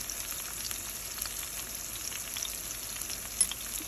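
Crushed garlic with turmeric and salt fries in a pan while being stirred, giving a steady soft sizzle with faint scraping and one brief clink near the end, no voices.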